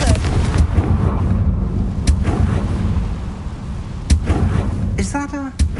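A Confringo blasting spell in a Harry Potter video game goes off as a sustained loud rumbling blast, punctuated by several sharp booming impacts spread across a few seconds.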